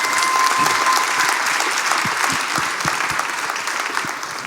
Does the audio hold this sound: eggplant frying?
no